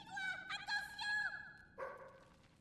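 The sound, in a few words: dog barking in video game Fable III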